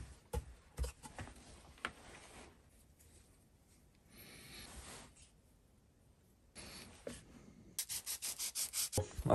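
Sander working over cut wood pieces for a small birdhouse, uneven rubbing strokes in bursts with gaps, growing into a fast rhythmic scraping near the end, close and moderately loud.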